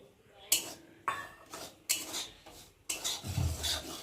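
Semolina dry-roasts without oil in a kadai, with a spatula scraping and rasping through the grains in four distinct strokes, close but fairly quiet, the last one longer and heavier.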